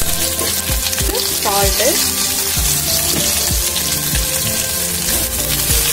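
Sliced onions fry in hot oil with mustard seeds and urad dal for a Bombay chutney, giving a dense crackling sizzle with sharp pops throughout, while a voice speaks briefly.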